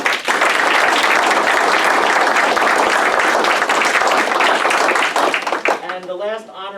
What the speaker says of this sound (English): We just have another round of applause for